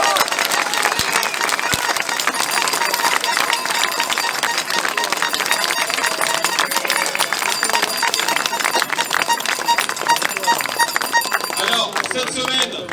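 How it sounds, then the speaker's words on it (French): A crowd at a street demonstration applauding, a continuous loud patter of many hands clapping in the open air, with voices mixed in and no pause over the full length. "on peut les applaudir, bravo à eux."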